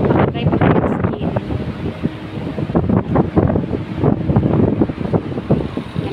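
Strong wind buffeting the microphone while people walk outdoors, a steady loud rushing roar with gusty swells throughout.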